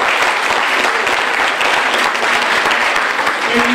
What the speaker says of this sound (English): let's give our teachers a big hand clap